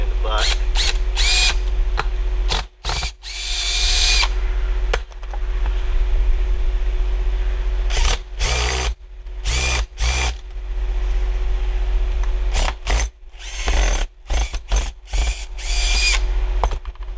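A power drill driving screws into RV roof sheathing, giving loud close whirring bursts that start and stop repeatedly, with a steady hum running beneath.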